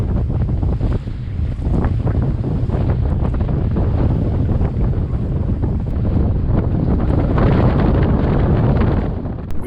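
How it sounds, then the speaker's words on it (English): Strong wind and heavy open-sea waves buffet a sailboat off the Grenadines in winter gusts, a loud continuous roar of wind noise and crashing surf filling the whole stretch with no voices. "Out in the open sea were some of the biggest waves we'd ever been in, with winds quite a bit higher than the previous day."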